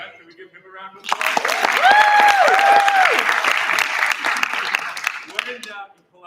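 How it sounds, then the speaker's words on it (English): A live audience breaks into loud, dense applause, rising suddenly, holding for several seconds and then fading, with whoops and voices mixed into the clapping. "Can we give him a round of applause?"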